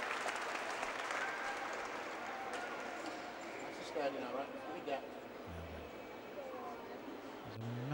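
A home crowd at a UK strongman competition applauds in a continuous patter of clapping, while a commentator speaks over it and a few heavier thuds stand out partway through.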